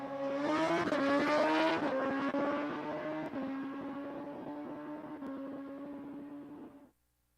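A 2009 Suzuki Hayabusa drag racing motorcycle launches down the strip at a dragway, its engine screaming loud and sustained through the gears for about seven seconds before cutting off abruptly.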